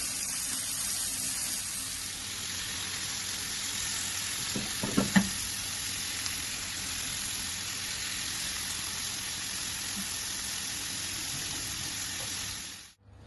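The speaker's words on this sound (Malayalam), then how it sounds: "ഞാൻ ഷാലോ ഫ്രൈ ചെയ്തിട്ട് മാരിനേറ്റഡ് പ്രോൺസ് എടുത്ത് വെച്ചിട്ടുണ്ട്" Marinated prawns shallow frying in coconut oil give off a steady, dense sizzle that holds for the whole stretch, with a few brief clinks near the middle and no voices.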